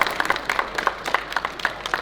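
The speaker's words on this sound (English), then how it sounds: "Please give yourself a big round of applause" A small group applauding after a coaching session, with quick, uneven claps that stay moderately loud and steady for the whole stretch.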